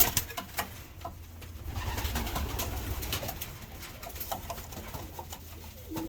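Pigeons coo softly inside a loft, low repeated throaty calls over a steady murmur, with occasional rustles and flutters nearby.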